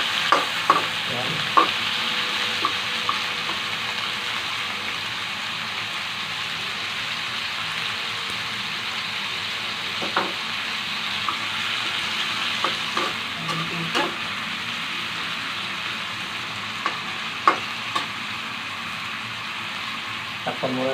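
Vegetables are stir-fried in a pan, giving a steady close sizzle and hiss punctuated by scattered clicks and scrapes of a utensil against the pan, continuing for a long stretch without speech.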